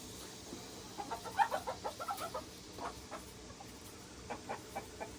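Olive egger hens cluck in a coop nearby, giving a string of short, soft, rhythmic clucks in two bursts over a low background hum.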